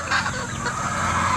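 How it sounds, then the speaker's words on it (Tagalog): Chickens cluck and call loudly at close range in a noisy backyard flock during breeding season, a dense overlapping chorus that continues steadily throughout. "maingay yung mga manok natin"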